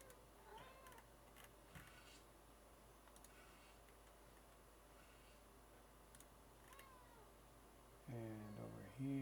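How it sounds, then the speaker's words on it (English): A house cat gives a few faint, brief meows over quiet background ticking, then a louder, drawn-out meow close by at the end. "My cat's talking to me."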